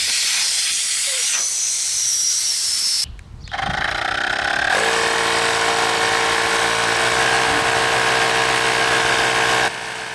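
Two battery-powered air compressors, an ASMAX T10 and a Fanttik S100, running loud and close with a steady high hissing whine and buzzing motor hum. There is a brief pause near the start, then continuous pumping, with no speech.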